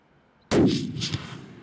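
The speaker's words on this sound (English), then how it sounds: "Shoot him right there." A single loud hunting rifle shot fired at a Dall sheep or moose in Alaska, a sharp crack out of quiet followed by a long rolling echo that fades away.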